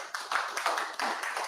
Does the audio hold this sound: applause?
yes